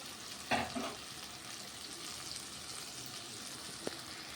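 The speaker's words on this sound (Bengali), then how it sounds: "পেঁয়াজটাকে ভাজতে শুরু করে দিয়েছি" Soft, steady sizzle of onions frying in a pan, with a brief scrape of stirring near the start and a small clink later.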